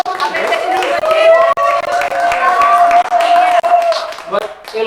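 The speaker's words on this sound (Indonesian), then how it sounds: "temen yang tepuk tangan dulu" Audience clapping at a student organisation gathering, with a steady burst of applause mixed with loud voices talking and calling out over it.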